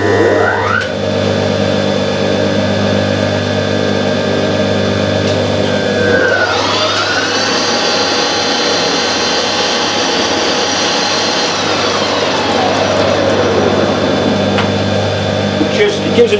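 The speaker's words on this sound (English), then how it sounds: "The lathe's got a 2-speed motor." A Harrison lathe's two-speed electric motor hums steadily, then winds up midway to a higher whining pitch, holds there for several seconds and spins back down, all loud and close.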